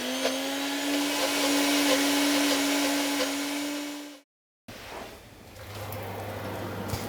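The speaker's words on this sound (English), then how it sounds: "So I'm going to pop all this into the blender or your NutriBullet" A blender or NutriBullet whirs steadily and loudly as it purees a sesame dressing, then stops briefly and starts again at a lower, rougher pitch.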